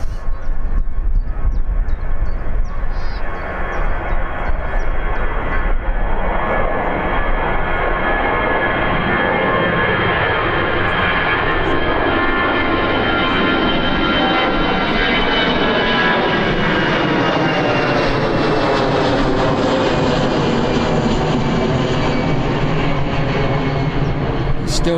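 An airliner taxis at Birmingham airport, its jet engines giving a loud, steady whine and roar with a slowly rising and shifting pitch as it moves along the taxiway, with talk faintly present.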